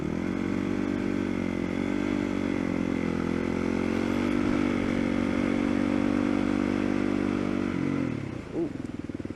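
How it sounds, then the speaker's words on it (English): A motorcycle engine runs steadily and close for several seconds on a road near a mountain, then surges and lurches abruptly near the end before settling back. "the engine just like jumped on me for some reason"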